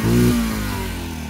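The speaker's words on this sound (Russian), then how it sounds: "и дальше мы включаем, газуем" A Yamaha Grizzly 700 ATV engine revs loudly up close, with a brief throttle blip followed by the engine settling back to a rumbling idle, and no voices over it.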